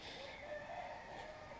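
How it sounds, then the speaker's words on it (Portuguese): Roosters crow at dawn on a countryside farm, their calls fairly distant and faint over a steady outdoor background hiss, with no talking. "Olha os galos cantando."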